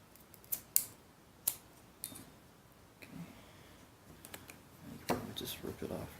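Scissors snipping the rubber piece off a Suzuki DR650 motorcycle fork seal: several quick, crisp close-up snips and clicks, followed by quieter handling noise with some speech.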